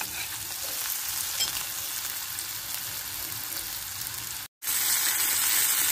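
Onion and coriander fry in a pan with a dense, steady sizzle. There is one short break near the end, then the sizzle comes back just as strong.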